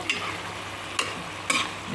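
Tamarind and coriander fry in a pan for chutney, a steady soft sizzle broken by three distinct scraping stirs of a spatula, close by and with no talking.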